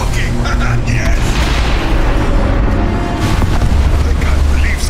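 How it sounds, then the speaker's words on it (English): Explosion in the Overwatch 2 story-mode co-op mission, a loud booming blast with rumbling debris that sustains across the whole stretch, with a second surge near the middle. Voices are mixed in with the blast. "I can't believe such little bullets made that huge explosion!"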